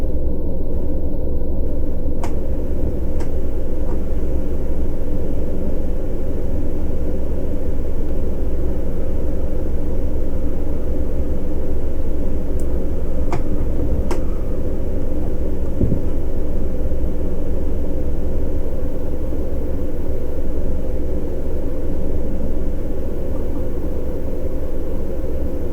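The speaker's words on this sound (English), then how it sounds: "I think the aircon is too loud. That noise becomes" Steady, loud air-conditioning drone inside a tourist bus in the game Tourist Bus Simulator, a constant low broadband hum with a few faint clicks, running on alone without talk.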